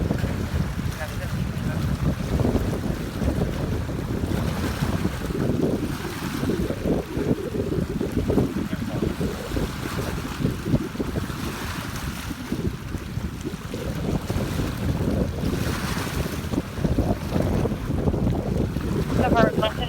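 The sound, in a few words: wind at the beach by the water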